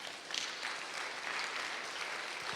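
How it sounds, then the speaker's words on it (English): An audience at a rally claps steadily together, a dense, even round of applause heard at moderate distance with no voices over it. "Give yourselves a round of applause."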